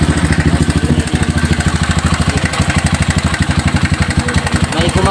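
A Zongshen motorcycle engine that is hard to start runs with a steady, loud, rapid thumping pulse throughout, close by, with no talk over it.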